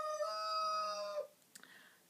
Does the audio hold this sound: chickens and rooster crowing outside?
yes